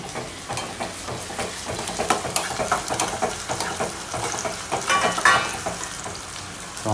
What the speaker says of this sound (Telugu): ఆనియన్స్ వేగిపోతున్న టైంలో